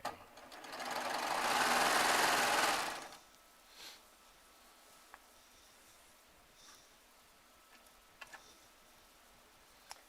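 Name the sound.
Baby Lock Triumph serger sewing fabric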